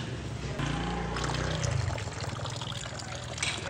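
Water pours steadily into a bowl of flour and cornflour, a continuous close splashing trickle lasting several seconds with no talking.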